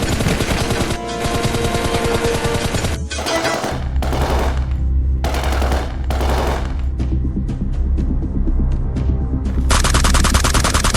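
Gunfire rings out in a soldiers' battle scene with long, dense bursts of rapid automatic fire, loud and continuous, broken by short gaps and single cracks, with no talking over it.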